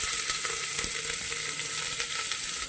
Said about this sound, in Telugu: ఇది కొంచెం గోల్డెన్ ఫ్రై వచ్చేదాకా ఫ్రై చేయాలి.